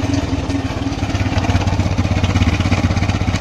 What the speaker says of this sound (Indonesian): Nah, ini motor hidup.